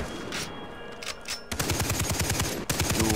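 Rapid bursts of gunfire in the video game Far Cry 3, loud and close, with dense automatic volleys crackling over a busy background before a brief pause.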